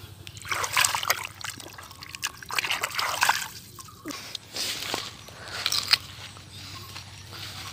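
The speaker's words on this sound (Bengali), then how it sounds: "এটা শশাটা ধুইতে হবে, এখন ধুয়ে তারপর এটা খাবো।" A cucumber being rinsed in water in a Bangladeshi village, with uneven trickles, splashes and sloshes coming in short bursts close by and a low steady hum underneath.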